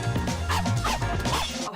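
A man imitates a dog, giving a quick series of loud, close barking yelps in one short burst with no other talk.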